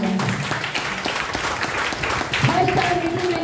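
Audience at a DXN product meeting applauding, a dense crowd clapping that runs under a speaking voice and some background tones, steady and fairly loud.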